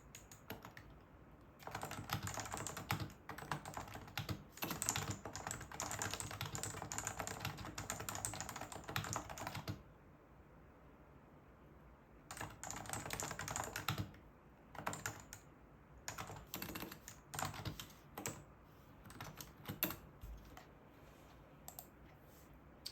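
Steady typing on a computer keyboard during a freelancer's work session, rapid clustered key clicks in bursts with a short pause midway, close and clear with no talking.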